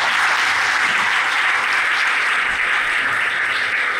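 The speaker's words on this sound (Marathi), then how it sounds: "एकदा सरांसाठी जोरदार टाळ्या." An audience of students gives a speaker a round of applause after a budget lecture, dense steady clapping from many hands filling the room loudly for several seconds.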